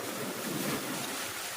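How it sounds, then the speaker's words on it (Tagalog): Big ocean waves at a fishing spot roll and wash in a steady roar, mixed with wind buffeting the microphone, with no voices. "Kita nyo naman kung gaano kalalaki yung alon"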